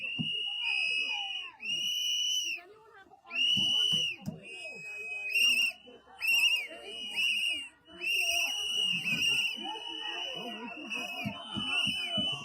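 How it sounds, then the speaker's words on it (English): Many whistles shrill in repeated bursts from a crowd gathered at an ICE raid outside a house, piercing and sustained over shouting voices and background commotion. "So I wonder where they all get the whistles from."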